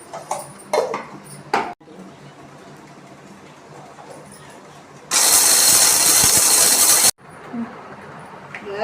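A mixer grinder whirs loudly for about two seconds while grinding dried turmeric into powder, preceded by clatter and handling noises near the jar.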